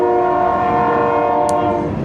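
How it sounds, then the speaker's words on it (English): A loud train horn blares steadily as a train rumbles past close by, with a short high squeal near the end. "Yay for the train."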